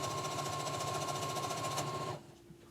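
A sewing machine stitches a thin knit top in one steady, close whirring run that stops abruptly just before the end.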